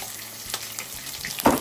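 Rice frying in ghee in a pan, a soft steady sizzle with a brief louder burst of stirring near the end, close and without talk.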